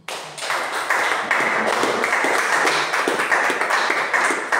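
A church congregation claps together in acclaim of the Lord during a Sunday service, producing a loud, dense, sustained wash of applause that carries on without pause.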